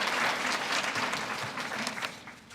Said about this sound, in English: Another round of applause, please, again for the choir.